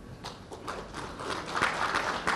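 An audience claps at a talk on Sikkim's small-business growth, producing a short burst of scattered hand claps that builds slightly louder toward the end.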